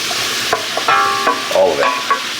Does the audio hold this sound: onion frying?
yes